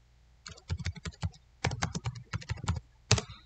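Crisp computer keyboard typing close to the mic, in quick bursts of distinct key clicks with short pauses between words, alone against a quiet background.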